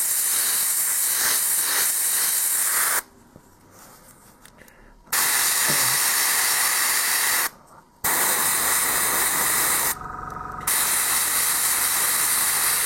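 An airbrush sprays paint onto miniatures in loud, close bursts of steady hiss, cut by several short pauses where only faint background noise remains.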